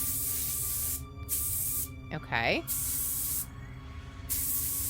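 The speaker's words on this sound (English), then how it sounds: "Let's put the beard on and spray paint it." A spray can hisses in long, steady bursts while painting a mannequin's beard, with brief pauses between sprays and a short spoken word in the middle.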